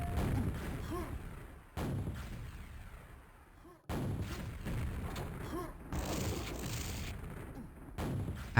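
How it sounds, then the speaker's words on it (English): Repeated blasts of grenade fire in the arena shooter QuakeWorld, loud bursts of explosions and weapon fire that arrive in clusters with brief gaps between them, with no voices over them. "Just barely dodging those grenades."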